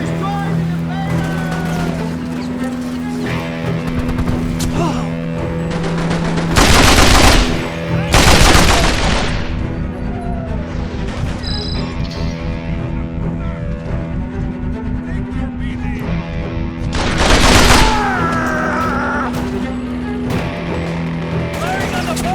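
Mounted gun fire in Mercenaries 2 on a boat, with heavy bursts near 7 and 17 seconds. A steady engine drone runs underneath, and voices shout over the action.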